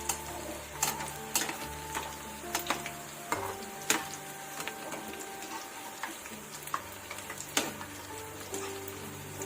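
Village-style spinach pakoda fry in hot oil with a faint, continuous crackling sizzle, dotted with sharp pops and occasional stirring clicks.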